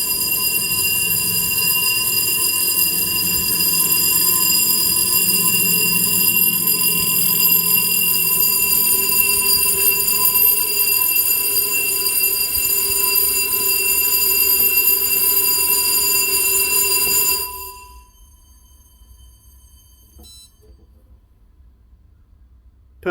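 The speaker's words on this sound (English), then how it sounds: "bells are ringing" A fire alarm being tested rings loudly and continuously for most of the clip, then stops abruptly, leaving a quiet hum.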